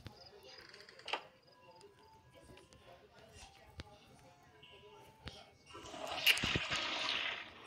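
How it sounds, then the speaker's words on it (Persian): A toilet flushes in the video game Mr. Meat, a brief rushing burst of water near the end after quiet scattered clicks and small sounds. "حالا ما میم سیفون میگشیم"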